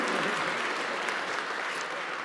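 Audience clapping at a clean energy bill signing event, a dense, steady burst of applause filling the room at close range.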